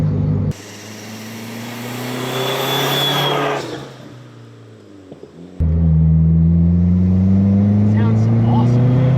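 An SRT4 turbo engine swapped into a 1985 Dodge minivan revs hard, then drops to a lower idle rumble before it surges loudly again, close by. People talk over part of it.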